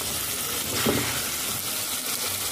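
Chicken pieces fry in a pan for a chicken aloo curry, giving a steady close sizzle with a brief swell of stirring near the start and no talk.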